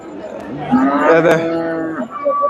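A single loud, drawn-out bull moo rings out close by at a Bangladeshi cattle market before the Qurbani sacrifice, with faint crowd chatter behind it.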